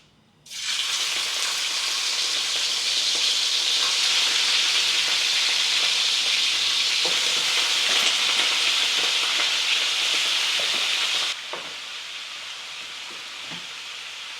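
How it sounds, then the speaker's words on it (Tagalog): Pork searing in hot oil in a pan for humba, a loud, steady close-up hiss and sizzle with faint spattering pops that drops to a lower level near the end. "So, simulan natin pag-sear. So, medyo ingat lang kayo dito dahil medyo tumatalsik siya."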